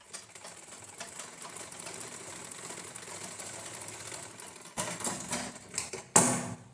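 Sewing machine stitching a cross stitch on a blouse lining, a steady, quiet, rapid needle chatter that grows louder in short bursts near the end, with no voices.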